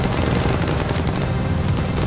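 Dense, continuous machine gun fire in Call of Duty: Vanguard, a steady loud barrage of overlapping automatic bursts and rumbling booms, with no voices.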